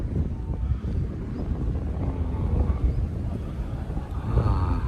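Wind gusting across an island on a cloudy December day after overnight rain, a steady, close rumbling buffet that sounds like wind striking the microphone, with brief swells and no clear voices.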